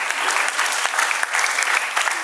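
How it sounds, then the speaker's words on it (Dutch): Steady applause from a crowd at a primary school graduation ceremony, dense clapping without pause for a couple of seconds. "Een applaus voor Murphy."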